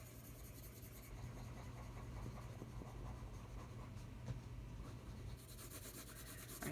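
Spectrum Noir Coloriste colored pencils are rubbed across paper in short scratchy strokes, a quiet close-up scratching that runs steadily with no talk.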